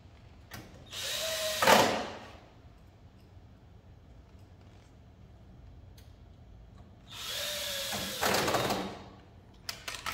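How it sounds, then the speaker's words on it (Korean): Power screwdriver driving screws while a Fuji Xerox DocuCentre IV C2265 copier's power supply is replaced: two short whirring bursts several seconds apart, close and moderately loud, with quiet handling noise between them. "나사를 먼저 좀 채워야 되겠죠"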